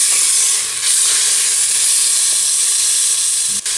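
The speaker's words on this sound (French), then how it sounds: "je fais colorer mes morceaux de viande encore pendant 2-3 minutes sur tous" Veal pieces with crushed tomato browning in a pot for a veal tajine with green beans give off a loud, steady, close sizzle and hiss, with one short dip near the end.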